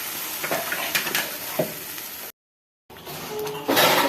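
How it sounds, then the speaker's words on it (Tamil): Ground spice paste for crab curry fries with a close, hissing sizzle and scattered stirring scrapes, cut by a short silent gap before the sizzling returns louder. "சேர்த்து நல்லா நம்ம ஃப்ரை பண்ணி விட்டுக்கலாம்"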